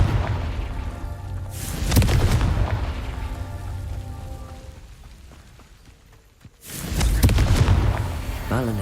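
Fiery Confringo spell blasts in the Hogwarts Legacy video game, two loud booming bursts with a quieter rumbling stretch between them, amid game sound.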